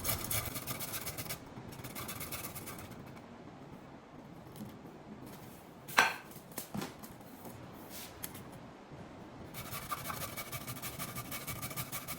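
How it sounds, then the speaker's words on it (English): Hand grating of cauliflower into rice: quiet, scratchy rasping strokes in bursts, with a few sharper knocks midway and faint rubbing between passes, close and soft. "I don't want to put it in the blender, so I will just grate."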